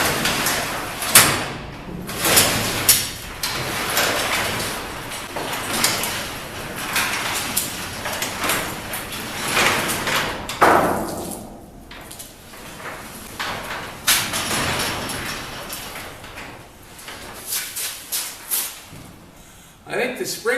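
A heavy door with springs rolls and rattles along its wheeled track during an annex build, with repeated scraping and clunking over about twenty seconds and some brief talk mixed in.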